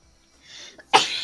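A single loud, close sneeze bursts out after a short breathy intake, sharp and sudden, then fades quickly in a quiet room.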